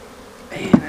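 Honey bees buzz close by at a small colony in a long hive, a faint hum swelling into a brief, louder buzz near the end.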